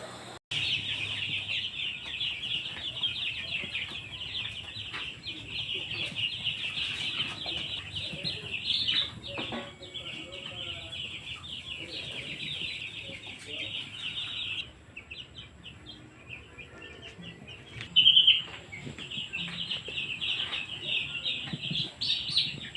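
Young chicks in a brooding pen bedded with rice hull, a dense continuous chorus of high peeping from many birds, steady and close, with occasional louder cheeps and no talk.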